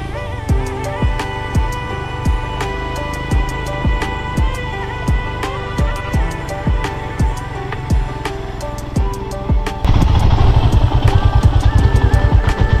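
A motorcycle engine near Mungpoo in the Darjeeling hills thumps in a steady, rhythmic pulse as it rides up to a set of stairs, then revs louder and rougher near the end, close and prominent.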